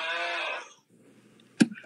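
A person imitates a loud snore with one drawn-out, nasal, bleating rasp lasting about half a second, followed by a quiet pause and a short sharp knock.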